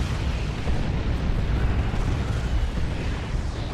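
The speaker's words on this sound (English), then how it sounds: "That's a rocket run now from Broodwich." Rocket run strike in the Dawn of War 2 real-time strategy game, a dense, continuous roar of rumbling explosions and blasts that fills the whole stretch at steady high loudness.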